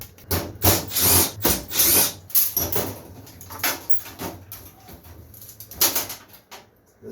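A power driver removing screws while dismantling a budget DIY router table, with a series of loud whirring bursts of the motor starting and stopping, close up, separated by short pauses, with no talking.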